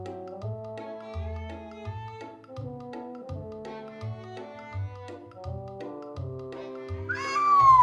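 A single drawn-out cat meow rises near the end over a steady, repeating piano-like melody.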